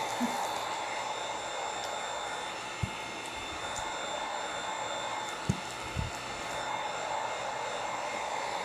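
Heat gun running on its lowest setting while packaging cold process soap, a steady faint blowing hum throughout, with a few soft knocks and handling clicks.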